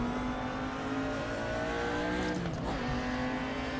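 Race car engine drones steadily in the Raceroom Racing Experience simulator, with a loud sustained harmonic whine that rises and shifts in pitch as the car accelerates, plus brief tire noise mid-run, close and continuous without talk.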